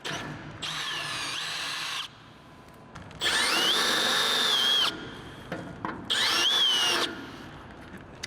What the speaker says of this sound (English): So let's go drill some more holes in the mast.